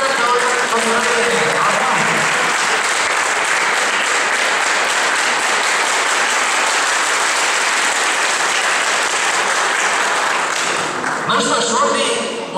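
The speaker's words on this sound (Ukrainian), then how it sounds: "Ваши аплодисменты." Sustained applause from a large audience at a KVN comedy semi-final in Ukraine, loud and steady for about eleven seconds, with crowd noise under it before it tapers at the end.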